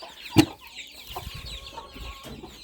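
Older chicks and bantam hens clucking outdoors on grass in a flowering garden, with one sharp loud call near the start followed by softer scattered clucks and chirps against a background of sparrow twitter.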